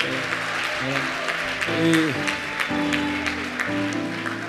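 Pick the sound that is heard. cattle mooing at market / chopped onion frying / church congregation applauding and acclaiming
church congregation applauding and acclaiming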